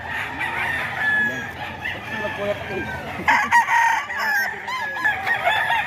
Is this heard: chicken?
yes